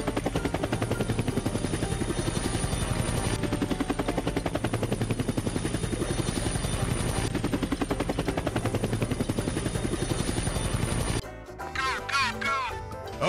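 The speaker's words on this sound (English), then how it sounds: "Helicopter." Helicopter rotor thudding in a rapid, steady pulse, loud and continuous for most of the clip before cutting off abruptly, followed by a brief stretch of other sound.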